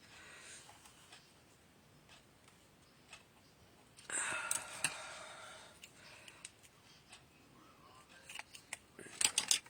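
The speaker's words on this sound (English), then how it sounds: "Let me just cut a small piece." Scissors snip a small piece of craft material at a paper-crafting table, a quiet, crisp burst of cutting followed by a few light ticks and clicks near the end.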